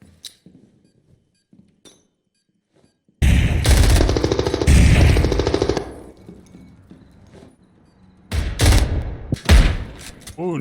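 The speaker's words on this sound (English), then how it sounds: "Ooh, nice shot by Riot there" Automatic gunfire in a competitive esports match, heard as two loud, dense bursts of rapid shots separated by a quieter stretch with faint thuds.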